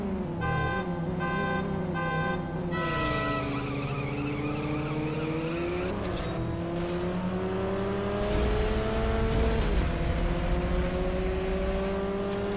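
Maserati 3500 GTI racing in the mobile drag-racing game CSR Classics: a steady engine drone climbs in pitch through several gear shifts, with electronic tones and game effects layered on top throughout, and no talk.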